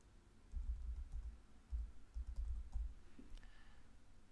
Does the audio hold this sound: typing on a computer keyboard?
yes